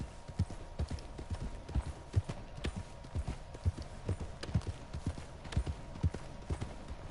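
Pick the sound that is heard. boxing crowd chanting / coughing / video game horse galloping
video game horse galloping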